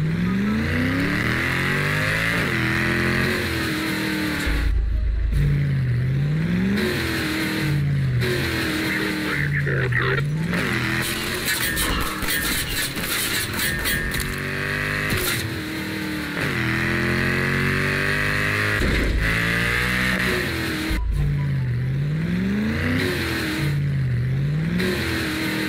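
A car engine in Garry's Mod revs and accelerates in repeated rising sweeps, gear changes dropping the pitch between climbs, loud and steady throughout with no talk over it.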